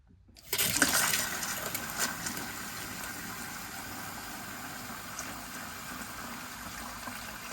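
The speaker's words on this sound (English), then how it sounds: "turn on the cold, and hopefully the pump will kick in and I'll have flow" Cold tap gushing into a wash hand basin, fed by a water pump, a sudden onset of loud, steady rushing water that continues close and unbroken.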